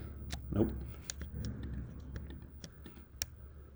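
Computer mouse clicks during editing in Premiere, several sharp isolated clicks spread across the moment, close and crisp, alongside brief indistinct voice sounds.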